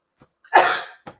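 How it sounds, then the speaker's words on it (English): A single sharp, explosive sneeze-like burst, close and loud, with a faint breath before it and a short exhale after. "Sorry, a second sneeze getting me today."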